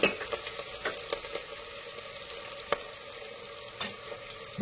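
Chicken being stirred and mixed in a pan for an Andhra-style chilli chicken gives faint scrapes and soft clicks over a low steady sizzle, with a few sharper utensil knocks scattered throughout.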